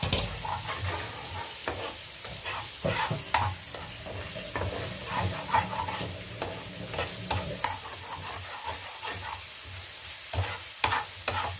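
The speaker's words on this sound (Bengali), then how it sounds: "ভালো করে ভাজা ভাজা করে নেব।" Masala with ginger fries in a pan with a soft, continuous sizzle, broken by repeated scraping and knocking strokes from stirring that come in irregular bursts, with no one speaking.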